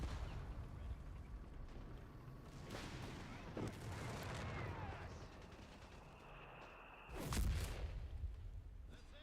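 A 150mm gun booms during a Company of Heroes 3 match, with a heavy blast near the end standing out over steady battlefield rumble and scattered gunfire, and a commentator talking throughout.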